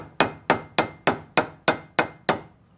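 Eight sharp, evenly spaced hammer taps ring out close by as a king pin bushing is driven into a Club Car Precedent golf cart, each strike decaying quickly before the next.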